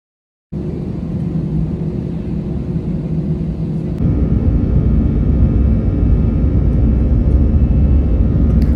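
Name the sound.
airplane taking off from Bangkok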